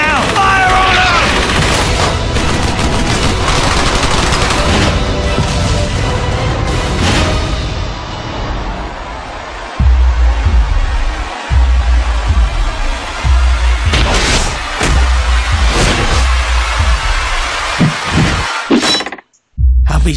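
Constant rifle fire and booming explosions from a Brothers in Arms battle, dense and loud throughout with overlapping bursts and heavy thuds, with shouted voices in the mix and a brief drop near the end.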